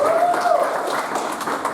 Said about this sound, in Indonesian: Tepuk tangan buat Lembaga Majelis Ilmu Alheria.